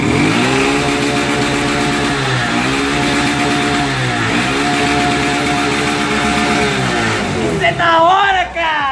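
Motorcycle engine starting on the first try and running loud and steady close by, with repeated rising revs through the middle and a final rev at the end.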